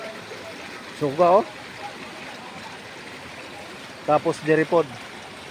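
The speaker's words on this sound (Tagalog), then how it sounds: "Gikan jud ni dito sa ibabaw ang tubig mga idol." A stream of water runs down from higher ground as a steady, nearby rushing flow. Someone speaks briefly over it twice.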